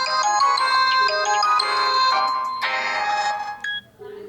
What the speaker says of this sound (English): I receive a call now.